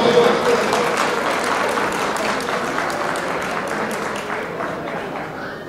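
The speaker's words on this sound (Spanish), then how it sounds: "Pero más fuerte el aplauso, señores." A crowd at a community celebration party applauds loudly, a thick wash of clapping that starts strong and slowly tapers, with some voices mixed in at the start.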